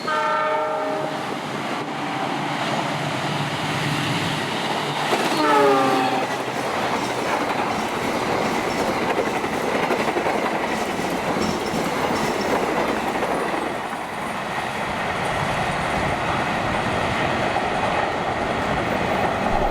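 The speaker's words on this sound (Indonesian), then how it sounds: "telah melintas kereta api Argo Parahyangan 51 dari stasiun Bandung tujuan stasiun Gambir" The Argo Parahyangan passenger train from Bandung to Gambir rumbles past with a continuous clatter of wheels, a horn sounding early on, loud and close throughout.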